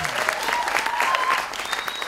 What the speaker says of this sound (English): second applause